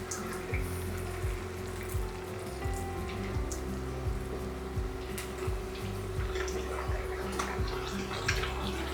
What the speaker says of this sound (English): As long as you're leaving space around them, just so they evenly fry.